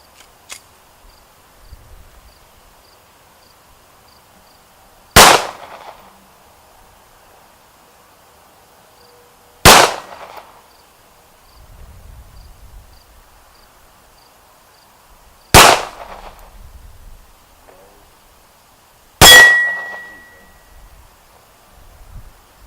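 Four loud, sharp handgun shots spaced several seconds apart, fired at steel targets at a range; the last is followed by a ringing metallic ping as a plate is struck, with quiet pauses between shots.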